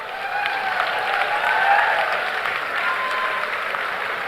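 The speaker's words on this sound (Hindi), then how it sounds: "बाकी लोग इनके लिए जोरदार तालियों से इनका अभिनंदन करें" Loud, sustained applause fills a hall at a company anniversary event as an audience honors standing staff, a steady dense wash of many hands clapping with a faint murmur of voices beneath.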